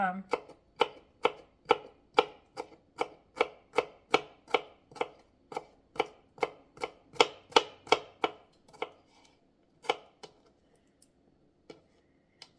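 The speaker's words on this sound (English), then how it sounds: "I'm going to chop this up, and I'm going to chop up an onion" A knife chops an onion on a cutting board in a steady run of about twenty crisp, evenly spaced strokes that slow and thin out near the end before stopping.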